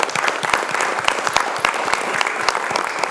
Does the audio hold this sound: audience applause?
yes